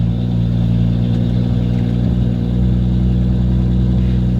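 BMW M435i engine idling after a start, a loud, close, steady low rumble with an even tone and no talking.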